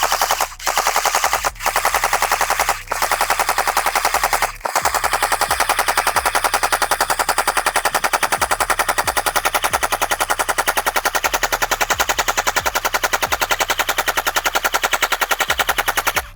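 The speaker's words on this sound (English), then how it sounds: "I've never shot actually an NGRS MK46 or any NGRS in full auto" A Tokyo Marui MK46 MOD.0 Next Generation Recoil Shock airsoft LMG fires long full-auto bursts, a loud, fast, steady mechanical rattle with a few short breaks between strings.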